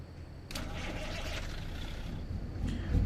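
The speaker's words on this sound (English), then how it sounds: "Oh, I love that sound. Now that's the Lope engine." A truck engine cranks and catches, then settles into a lumpy, loping idle for a few seconds, close and moderately loud, rising slightly at the end.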